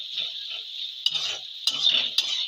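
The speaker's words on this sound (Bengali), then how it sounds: "একবার নেড়ে দেবো" Cabbage, potatoes and mutton fat stirred in a hot pan, a steady mid-pitched sizzle broken by three sharp spoon scrapes against the metal, close and clear.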